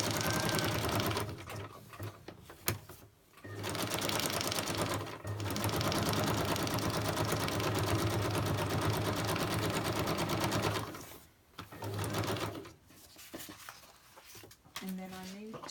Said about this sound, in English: I'm going to stitch that one down there.